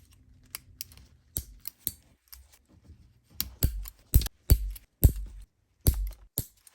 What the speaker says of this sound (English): nail tips are trimmed down